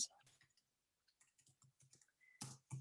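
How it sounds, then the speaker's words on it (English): Quiet computer keyboard typing nearby, scattered light key clicks in short irregular bursts with pauses, ending in a couple of louder clacks. "just typing that back to somebody"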